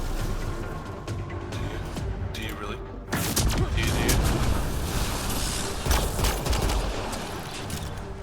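Turrets and weapons firing in the sci-fi shooter Mass Effect Andromeda, dense bursts of gunfire and booms swelling into a loud, continuous barrage, with voices talking over the combat.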